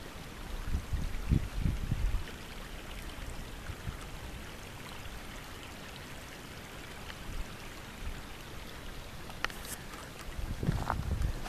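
A creek flows a few feet away in a Nevada canyon, a steady soft wash of water that runs continuously at low level, with a few louder splashes and knocks near the start and end.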